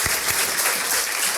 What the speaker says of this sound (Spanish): Pido un fuerte aplauso para mi invitado esta noche